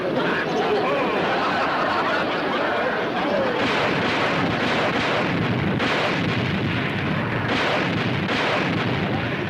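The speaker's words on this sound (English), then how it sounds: "Look at them explosions throw that water in the air." Rumbling explosions throw water into the air, heavy booming blasts rolling continuously through a noisy outdoor scene, with a voice briefly heard among them.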